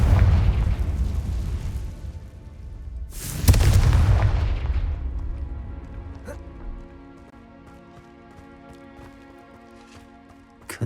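Confringo blasting spell in Hogwarts Legacy, a rumbling blast that gives way to a sharp, loud explosion and a long decaying rumble, with scattered clicks and pops as it settles.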